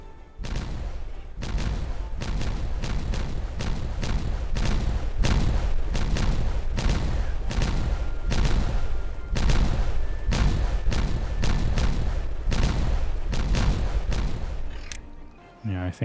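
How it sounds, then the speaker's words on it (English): Dynamite charges detonating in the beaver colony-building game Timberborn: a rapid, relentless series of loud booming blasts, roughly one per second, that continues for the whole stretch before trailing off at the end. "Let's detonate the others."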